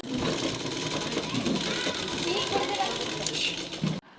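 A sewing machine runs continuously while stitching pants, a close, steady buzzing hum with a rattling motor texture that stops abruptly near the end; a voice speaks faintly underneath.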